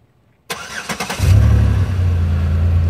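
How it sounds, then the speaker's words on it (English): A 2010 Chevy Impala LTZ engine cranks briefly with a few quick starter pulses, then catches and settles into a loud, steady idle close by. "So let me show you when I start the car up."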